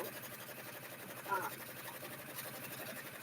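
An embroidery machine stitches a purchased font onto a bag, giving a steady, rhythmic mechanical whir that runs unbroken at moderate loudness.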